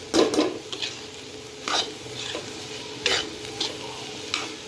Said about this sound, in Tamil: ஃபுல் ஃப்ளேமில் வச்சு மிக்ஸ் பண்ணிங்க அப்படின்னா ஒரு 5 minutes போதும்.